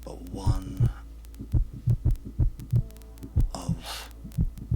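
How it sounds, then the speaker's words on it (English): A pulsating, unnatural heartbeat effect throbs in steady double beats over a low, constant hum, with faint high tones drifting in and out. "A pulsating sound. Not a normal heartbeat like the one you would hear in a mortal's body"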